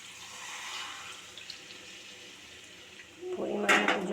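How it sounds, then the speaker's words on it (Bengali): Water is poured into a pan of hot cooking oil: a faint background hiss, then a sudden louder rushing splash near the end, close by. "এবার এটা আমি জল ঢেলে দেব"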